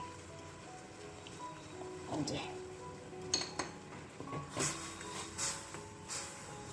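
Metal kitchenware clinks and clatters faintly as a pot of Darjeeling tea is covered with its lid, with a few sharp knocks among soft background noise while a person talks.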